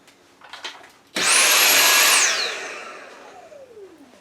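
A Dyson vacuum sucks up wet bathroom plaster during a renovation. After faint scraping, a loud whine cuts in abruptly and holds for about a second, then winds down and fades.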